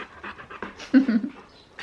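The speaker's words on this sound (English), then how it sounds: "That is not our dog." A dog pants close to the microphone in quick, breathy bursts with a brief whimper in the middle, while a person talks softly over it.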